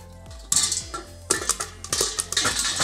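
A lid goes onto a pan on the stove for making popcorn, giving a few sharp metallic clanks and rattles with a faint sizzle between them, close by.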